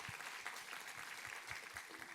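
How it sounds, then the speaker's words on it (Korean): A church congregation claps during a Sunday worship service, soft, even applause from a crowd heard at a distance, faint and steady throughout. "우리 하나님께 감사와 영광의 박수 올려드리겠습니다."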